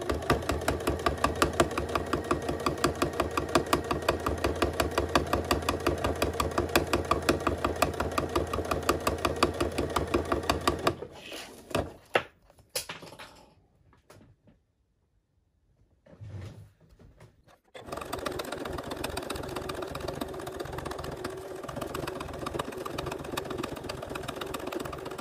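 Sewing machine stitching a fabric sleep mask along its top edge with a narrow 1/8 inch seam, a steady rapid mechanical whir for about eleven seconds, a pause with scattered handling clicks, then the continuous motor hum and needle rhythm resuming.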